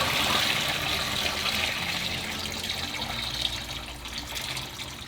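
A kitchen sink tap runs steadily beside a rusty cast iron pan about to be scrubbed, a close continuous hiss and splash of flowing water with no voices.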